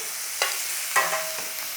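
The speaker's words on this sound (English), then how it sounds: "Nice little sizzle whizzle on there." Steady hiss of hing, garlic and ginger sizzling in hot oil in a pan, with a few soft clinks and stirs over the continuous frying.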